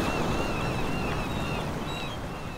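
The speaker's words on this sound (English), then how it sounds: "if you put your ear next to a litter box, you can hear the ocean" A steady ocean-wave sound effect rolls on as a broad, even wash of surf, with faint thin whistling tones riding above it.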